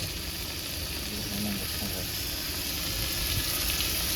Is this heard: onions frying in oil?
yes